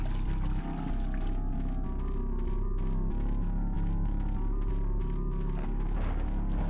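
Oil gushing into a boiler pipe inside a mansion in the horror video game The Happyhills Homicide, a steady loud rushing pour that runs continuously with rumbling low tones throughout.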